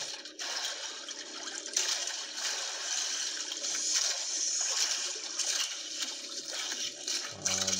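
Strong rushing water current from a river or stream, a steady loud broadband wash of water close by that continues unbroken throughout.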